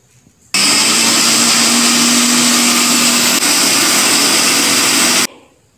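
A mixer grinder runs loud and close for about five seconds, churning coconut and coriander leaves into a paste with a steady high whine, starting abruptly and cutting off sharply, with no talking.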